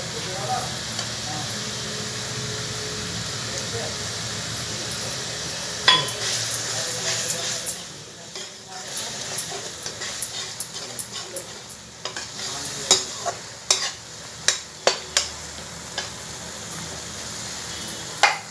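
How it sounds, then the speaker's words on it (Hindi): Masala of turmeric, coriander and chili cooking in oil in a kadhai for a chana dal sabzi, a steady sizzle under stirring, with sharper spoon clinks against the pan growing frequent toward the end. "देखिए मेरा मसाला पक रहा है।"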